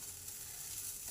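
Cumin seeds and dried red chilies sizzle in hot oil with asafoetida, a steady, close, dense crackle that holds for about a second with no talk.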